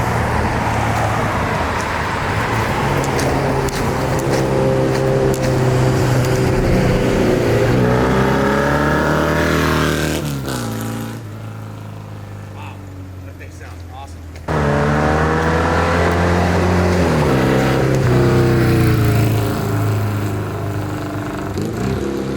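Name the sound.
1970 Norton Commando 750R motorcycle engine running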